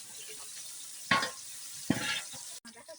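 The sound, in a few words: chili, bay leaf and cinnamon frying in a pan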